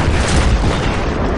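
C4 charges detonate against a tank in the military shooter Battlefield 3, a loud, close, continuous booming roar of explosion that fills the whole moment without talk.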